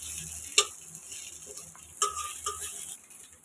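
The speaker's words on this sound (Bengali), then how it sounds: "আর এদিক দিয়ে হচ্ছে মাছ ভাজি, পেঁয়াজ দিয়ে মাছ ভাজি" Fish frying in a pan with onions gives a low, steady sizzle, broken by two sharp clinks of a utensil against the pan and lighter stirring scrapes.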